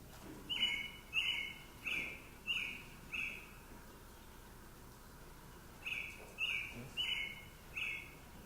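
American robin song, a series of clear whistled phrases in two bursts separated by a short pause, fairly faint over quiet background hiss.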